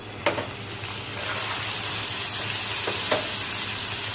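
Onions frying in a pan with ginger-garlic paste added, giving a steady, close sizzle and hiss with a couple of faint stirring clinks.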